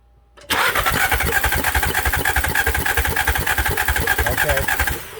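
A 2016 VW 1.8 TSFI engine with hard starting, rich idle and misfire cranks on the starter during a compression test with two cylinders out, a loud, close, rapid even whirring rhythm for about four and a half seconds.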